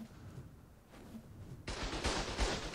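Gunfire in the game Ark Survival Evolved, a quiet rumbling start followed by a sudden sustained burst of loud, dense automatic shots.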